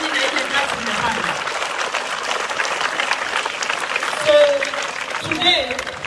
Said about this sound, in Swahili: Kama uko hapa na upigie walimu makofi